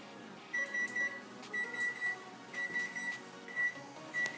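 A kitchen timer beeping while chicken boils for pho, a repeated high electronic beep in short triple bursts about once a second, clear and steady over faint kitchen background.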